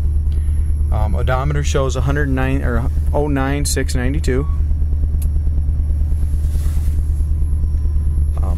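A 1966 Ford Thunderbird engine idles steadily with a low, even rumble running through the whole clip, while someone talks over it.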